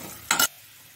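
Mashed vegetables for pav bhaji being sautéed with masala, garlic and chilli powder in a pan give one brief, loud burst of stirring and sizzling, then near silence.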